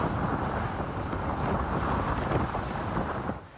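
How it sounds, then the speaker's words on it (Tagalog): Strong typhoon winds lashing Basco, Batanes, roar as a dense, continuous rush buffeting the microphone, loud and unbroken with gusting surges, before cutting off abruptly at the end. "Ramdam sa mga bidyong kuha kahapon ang hagupit ng hangin sa Basco"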